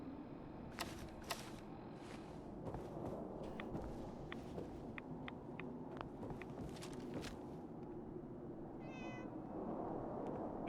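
A cat meows several times at close range inside a Fallout 4 game session, the short cries mixed with sharp clicks and light footstep-like taps over a quiet background.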